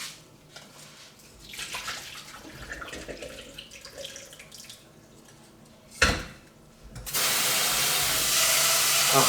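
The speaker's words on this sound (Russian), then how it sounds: "Так, сейчас я сливаю воду." Water drains out of a container, starting as quiet trickling and splashing, then a brief gush, then a loud, steady rushing pour close by with no talking.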